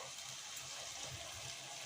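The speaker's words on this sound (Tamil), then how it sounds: "இதில் வந்து ஒரு கப்பு நான் புளி தண்ணி ஊற்றிக்கிறேன்" Thick tamarind water pours steadily from a cup into a simmering ivy gourd kara kuzhambu, a soft continuous liquid gush heard close and alone at low level.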